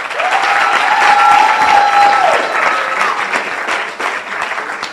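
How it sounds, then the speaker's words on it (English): A loud, full round of applause from the audience at a Louise Bennett-Coverley symposium, sustained and even throughout, with a brief faint tone drifting over it early on and no speech. "clap really loud"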